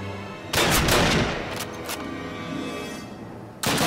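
Call of Duty 1 gunfire comes as loud, close bursts of rapid shots, with one long rattling volley and a fresh burst at the end.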